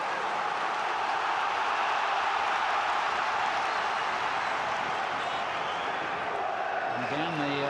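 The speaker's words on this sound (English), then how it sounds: "Crowd urging Jeremy to shoot first time." A football stadium crowd at a Newcastle United versus Arsenal match keeps up a dense, continuous roar throughout, with a commentator's voice heard over it and a rising swell near the end.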